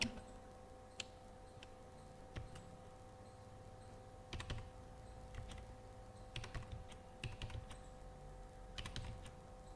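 Typing on a computer keyboard while entering data into an Excel spreadsheet, faint irregular clicks in short bursts with pauses, over a quiet steady electrical hum.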